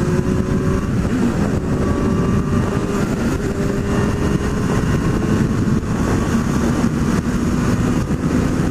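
A Honda Hornet motorcycle ridden on a highway near São Paulo, its engine a steady, loud drone with rising and falling pitch sweeps as gears change, buffeted by continuous wind rush throughout.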